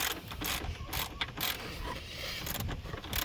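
A ratchet clicks rapidly while hand-tightening a bolt in a cramped spot on a Ford Edge during alternator and wiring harness replacement, close and fairly quiet, in several quick back-and-forth bursts.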